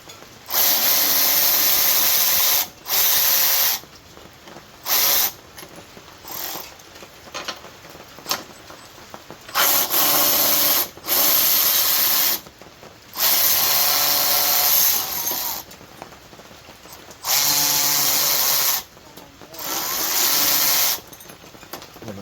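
A 12V cordless impact tool, Milwaukee M12 FUEL or DeWalt 12V Extreme, works at stubborn bolts in loud repeated bursts of a few seconds each, separated by short pauses and light clatter.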